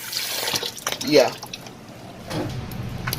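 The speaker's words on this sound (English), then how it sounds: "I'm going to wash my beans to the pot." Dry beans being washed in a pot of water for jollof rice with beans make close sloshing and trickling, swelling briefly and then settling, with a voice nearby.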